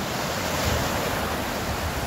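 Sea waves wash steadily onto a beach in Spain, a continuous loud rushing roar mixed with wind buffeting the microphone, with no voices.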